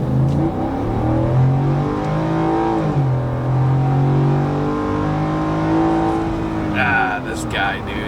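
A 2023 Ford F-150 with a 5.0 Coyote V8 accelerating hard from low speed, a loud engine roar with rising pitch that drops at a quick upshift and climbs again, heard from inside the cab.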